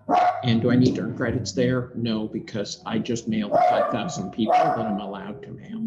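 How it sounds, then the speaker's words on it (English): A pet dog barks and whines in the background of a home office, repeated yips rising over someone talking steadily in the foreground. "dog barking here in the background"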